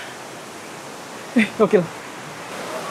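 Curug Lawe waterfall gives a constant, even rushing roar that fills the scene, broken briefly by a short excited exclamation from a nearby voice.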